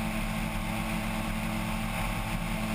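A light aircraft on takeoff from a gravel runway gives a loud, steady engine drone from inside the cabin, a constant roar with wind rush and no talk.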